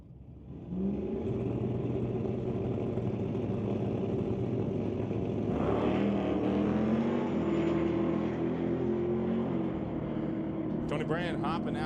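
A 1973 Chevrolet Nova with a 434 cubic inch engine roars at a street-legal drag race at a raceway, the loud, sustained engine note shifting and rising midway while an announcer talks over it.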